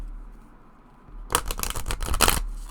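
A large, wide deck of Illustrated Herbiary collectable cards is shuffled by hand, with a quiet start followed by a burst of close, rapid riffling flutters and snaps.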